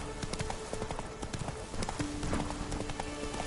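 Hooves of Roach, the horse in The Witcher 3, clop in a quick galloping rhythm, steady and fairly close, with faint game music and ambience underneath.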